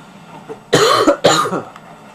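Two harsh, close coughs in quick succession from a single person, loud and raspy, with a faint breath before them and quiet afterward.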